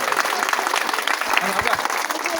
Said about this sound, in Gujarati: એની ટીમ માટે તાળીઓનો ગડગડાટ થાય